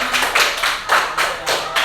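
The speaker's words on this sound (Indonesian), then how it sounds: "Tepuk tangan dulu untuk kelompok atraksi" Students in an Indonesian classroom clap for a performing group, a short burst of loud, close, rhythmic claps in an even beat of about three per second.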